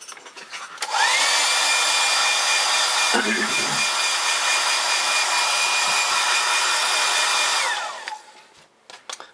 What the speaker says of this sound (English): I'm hair drying that to make sure it's absolutely dry before I erase the pencil lines